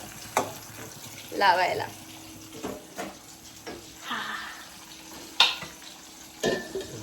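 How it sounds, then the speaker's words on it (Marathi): Onion frying in a pan in a home kitchen while chicken biryani is being cooked, giving a soft, steady sizzle broken by clinks and stirring scrapes, with someone speaking briefly. "फक्त कांदा तळते"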